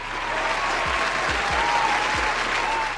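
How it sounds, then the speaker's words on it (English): Steady, dense applause from a crowd, loud and continuous throughout with no pauses. "Give them a round of applause."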